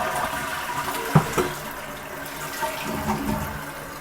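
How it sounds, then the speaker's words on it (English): A toilet test flush sends water gushing and refilling the tank, a steady close rushing wash with a brief clunk near the start and no talking. "Do a couple of test flushes."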